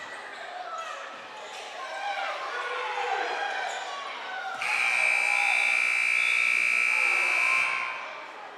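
An end-of-period buzzer sounds loud and steady for about three seconds at a high school basketball game, over continuous crowd noise and squeaking in the gym.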